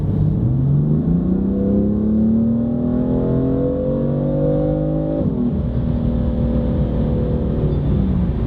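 A BMW sports car engine idles then revs up smoothly under a deep exhaust rumble, pitch climbing and dropping back before settling into a steady drone.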